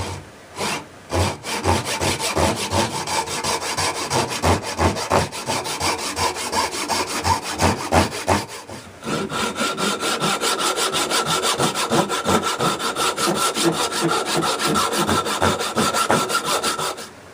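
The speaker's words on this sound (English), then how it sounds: "this is my go-to saw for most everything" A traditional hand saw cuts through wood in a steady back-and-forth rhythm of strokes, close and loud, with a brief pause partway before the sawing resumes evenly to the end.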